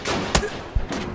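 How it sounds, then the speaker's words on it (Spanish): Gunfire in the video game Deadside: three sharp shots with irregular spacing cut through a noisy background, the second deeper and thumping, the others crisp cracks. "Venga el tiroteo."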